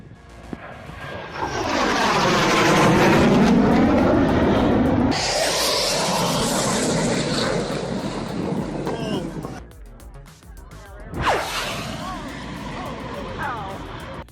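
A jet aircraft roaring past during an aviation display, a loud sweeping rush with shifting pitch that builds, fades, then surges again, heavy wind-like noise throughout.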